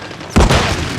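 A thermal grenade detonates in a video game with a sudden loud boom, then a rumbling crackle that lingers under faint background battle noise.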